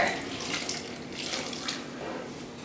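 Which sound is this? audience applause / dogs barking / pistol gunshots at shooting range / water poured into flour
water poured into flour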